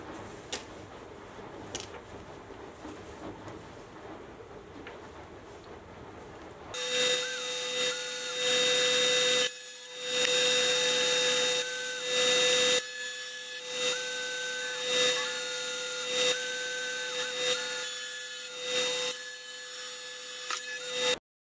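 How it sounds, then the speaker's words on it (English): A tool post grinder runs on a lathe while making a collet chuck, a steady high whine with a sustained tone, pulsing louder and softer in repeated passes after a quieter start. "what I'll do is I'll set up my tool post grinder"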